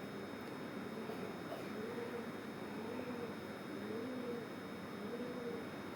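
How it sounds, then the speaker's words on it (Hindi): Soft, repeated cooing of pigeons in the background, a low rolling call recurring about once a second against a quiet ambient hum. "कबूतर की गुटरगू आप सुन सकते हैं."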